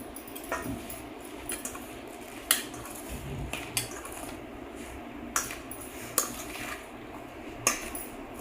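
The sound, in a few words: mixing tempered oil into cucumber pickle in a bowl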